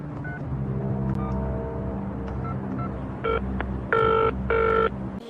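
A telephone call to the Ministry of Defence: a series of dialing tones and two distinct ringing bursts near the end, heard over a low, constant engine-like drone.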